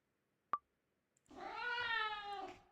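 Cats meowing in the Obey Me! Nightbringer video game: a sharp click, then a drawn-out, wavering meow chorus lasting over a second, fairly loud with no talk over it.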